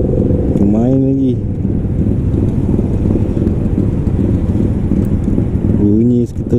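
A Yamaha Lagenda 115ZR motorcycle engine revs hard at a night meetup in KL, with a racing-style exhaust rising in pitch in bursts near the start and end over steady loud engine and wind rumble, while voices talk.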